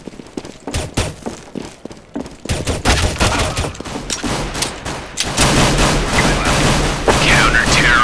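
Gunfire in Counter-Strike: Global Offensive on a hostage-rescue map, with rapid bursts of shots and automatic fire building into near-continuous, loud shooting toward the end.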